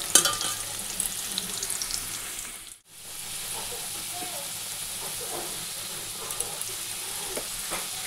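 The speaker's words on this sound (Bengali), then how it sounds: "এই যে এখানে আলু বসিয়ে দিয়েছি ফোড়ন দিয়ে," Potatoes fry in oil tempered with bay leaf and whole cumin, giving a continuous close sizzle that briefly cuts out near the three-second mark before resuming with light crackles.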